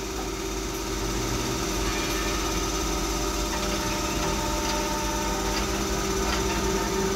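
A thyristor/IGBT-controlled DC motor with tacho-generator feedback runs under load, giving a steady, continuous electrical hum and whine that stays even throughout.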